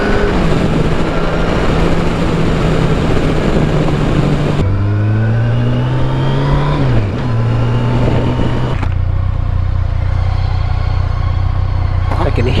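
Honda ST1300 motorcycle engine revving hard while riding, loud and close, with rising and falling pitch sweeps as it accelerates through gears, a steady drone between pulls and wind rush throughout.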